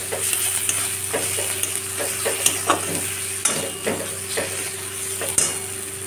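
Ginger-garlic paste and spices are stirred in a sizzling pan while cooking pabda fish curry, with a spatula scraping in a regular rhythm of strokes roughly every half second over a steady low hiss, no talking.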